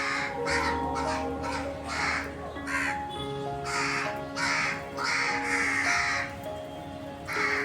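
Several crows caw repeatedly near where pigeons are being fed at home, harsh calls overlapping in bursts roughly every second, loud and close throughout, with no speech.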